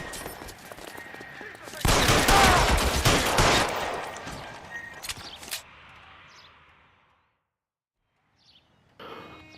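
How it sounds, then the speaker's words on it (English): Burst of rapid gunfire in a Los Angeles crime-noir shootout game, a loud dense fusillade lasting a few seconds, then scattered shots tapering into quiet, with a voice talking over parts of it. "Open fire!"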